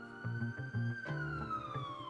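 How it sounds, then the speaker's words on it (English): A police siren in the video game Dynopunk wails with a slowly falling pitch over rhythmic low thumping, close and moderately loud. "Police siren."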